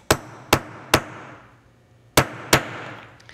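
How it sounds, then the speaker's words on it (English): Five sharp metallic whacks from a brass hammer striking a rivet on a block ring out, three in quick succession, a pause, then two more, each a crisp close strike with a short decay. "I'm using a brass hammer for this on top of my block, and just give it a couple of good whacks"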